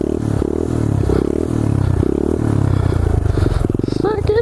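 Pit bike engine revving hard through second gear on an empty road, a loud continuous buzzing drone with rising and falling pitch and rattly clatter, a voice talking over it near the end.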